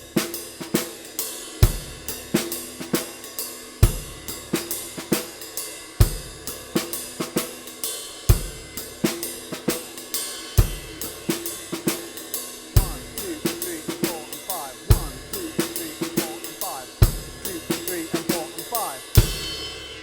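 A close drum kit lays down a groove in 5/4, regular kick and snare hits cycling with a light ride cymbal ping closing each bar, played without talk for about twenty seconds.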